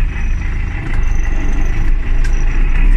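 MTZ tractor engine running loud and close as the driver shifts into seventh gear and pulls away, a steady low diesel rumble that rises slightly.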